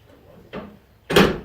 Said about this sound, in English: What Bill is slamming down in there is called the dog.